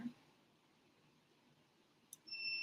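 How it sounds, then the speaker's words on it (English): Buzzer alarm on a GK UVC disinfection light, set off by remote control, begins near the end as a steady high electronic beep tone after a quiet stretch of room hiss. "Now I will show you the buzzer functions here."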